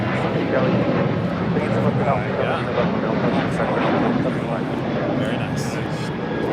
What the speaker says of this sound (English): RNAV Docker, clear for takeoff, 25 right